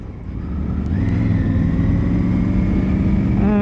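A 2020 Triumph Tiger 900 GT Pro motorcycle engine rises smoothly and loudly as the rider accelerates. The engine tone climbs steadily, heard close from the rider's position, with no talk.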